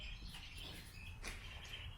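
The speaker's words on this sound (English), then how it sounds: "Sun's out, the birds are all singing away." Birds chirp and tweet outdoors on a sunny day, faint scattered calls over a steady low background hum, with no voices.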